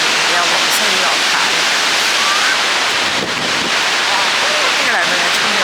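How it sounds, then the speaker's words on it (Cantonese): A waterfall in southern Iceland roars loudly and continuously at close range, with heavy water spray and wind buffeting the microphone throughout. "好勁啊！ 呢個瀑布。"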